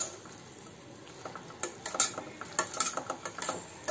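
A spoon stirs millet pasta in a pan with scraping, tapping contacts that start sparse and grow busier, close and fairly quiet against a faint hiss.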